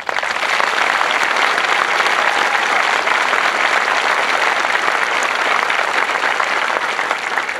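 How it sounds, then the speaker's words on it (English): Loud, sustained applause from a large audience at an Air Force Basic Military Training parade, a dense, even roar of many hands clapping without pause for the whole stretch. "I would ask the audience to please give them a tremendous applause"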